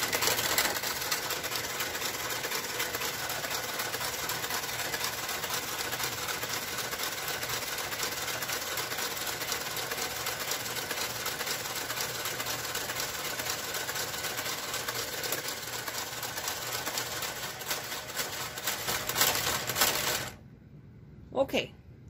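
A knitting machine's garter carriage works steadily across the bed, giving a continuous mechanical clatter and whir at close range that runs unbroken for about twenty seconds before cutting off abruptly.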